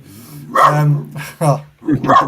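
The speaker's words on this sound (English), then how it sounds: "the dog's going off his head" A dachshund barks in a few short, loud bursts close by, with a voice talking around and between the barks.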